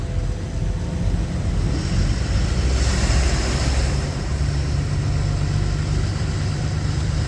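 Vehicles sit idling in a light roadside traffic jam caused by a broken-down car, a steady low engine rumble mixed with a rushing, wind-like wash of noise.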